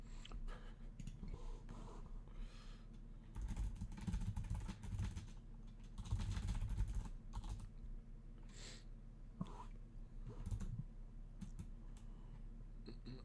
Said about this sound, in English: What do I mean? Typing?